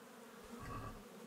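Bees buzz around straw beehives in a village in Kingdom Come: Deliverance, a soft, steady droning hum that swells slightly midway and continues without any voices.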